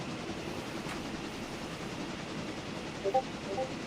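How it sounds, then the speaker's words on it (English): Steady rumble of a slow train rolling along in the video game Railroader, with a continuous low-pitched drone and a few faint clanks near the end. "It's going to be a slow train."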